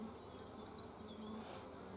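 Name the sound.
honey bees buzzing in hive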